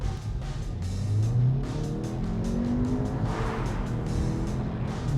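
A Cupra Ateca or Jaguar E-Pace SUV engine revs and climbs in pitch as it accelerates hard, its roar rising and holding close by.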